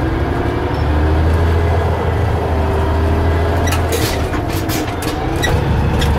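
An AM General M916 truck with a Caterpillar 7155 engine and a 16-speed transmission shifts one gear, heard as a loud, steady diesel drone from close by that changes slightly partway through.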